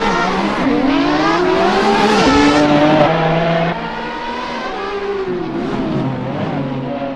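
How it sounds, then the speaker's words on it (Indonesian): Race car screaming along with tires skidding, its high engine whine sweeping up and down in pitch over a continuous loud tire squeal, nearby and alone, easing slightly in the last few seconds. "mobil balap dia nih teman-teman"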